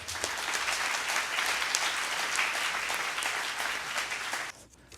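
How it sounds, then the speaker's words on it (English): A room full of people at a Silicon Valley gathering applauds as an ambassador is welcomed on stage, dense, sustained clapping that cuts off abruptly near the end. "Please welcome him with a huge round of applause"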